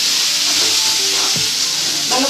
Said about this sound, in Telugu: ఇదిగో కలుపుతున్నానండి చూడండి.